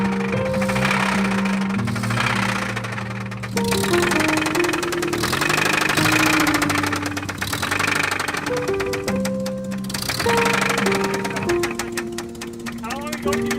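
A Toyota 22RE engine runs roughly with a loud, persistent knock, heard close and continuous under a steady drone that shifts in tone as it runs, with voices mixed in.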